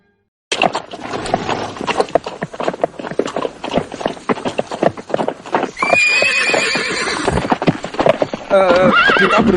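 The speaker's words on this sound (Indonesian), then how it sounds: "Kuda tidak bisa masuk ke dalam." A horse's hooves clip-clop loudly and quickly as it trots and runs, with several shrill neighs and whinnies layered on top, staged as sound effects in an Indonesian radio drama set in the Majapahit era.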